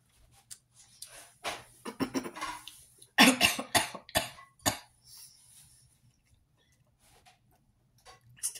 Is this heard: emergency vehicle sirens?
no